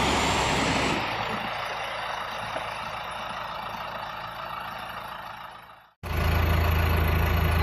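A Gradall excavator's diesel engine drones loudly and steadily at a worksite, cuts out abruptly for a moment, then roars back at full volume.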